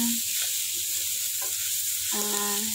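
Potatoes sautéing in a pan give a loud, steady, close sizzle throughout, with faint clinks from stirring and a few soft tones in the background.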